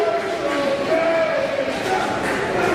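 A wrestling crowd at a TCPW Showdown event roars loudly and steadily for Yayne Harrison, a dense wall of cheering with faint chant-like tones rising through it.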